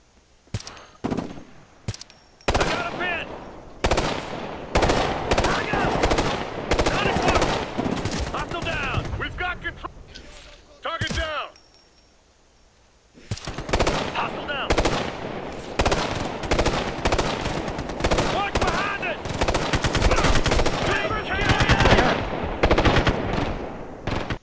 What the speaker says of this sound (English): they're shooting me directly through cover this time